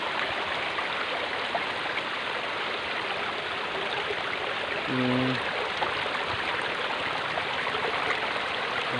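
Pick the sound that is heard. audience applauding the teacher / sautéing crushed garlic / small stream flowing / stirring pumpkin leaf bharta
small stream flowing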